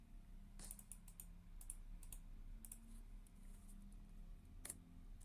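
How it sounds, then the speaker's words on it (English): Typing on a computer keyboard while entering a command, a run of soft, quick key clicks in short uneven bursts with pauses, faint and close in a quiet room. "If I type kubectl get"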